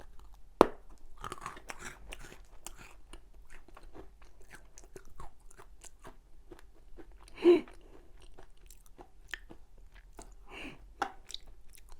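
Someone chews a low-calorie diet bread stick up close, with quiet crisp bites and crunches scattered through steady mastication and a few louder snaps.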